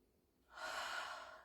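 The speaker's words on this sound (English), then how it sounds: "then we'll just do some really deep breathing" A single deep, slow breath during a kneeling stretching routine, a soft airy inhale or exhale rising after a moment of near silence.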